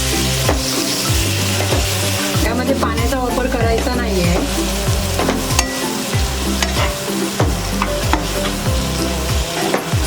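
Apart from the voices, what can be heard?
chicken with spices being stirred and fried in a pan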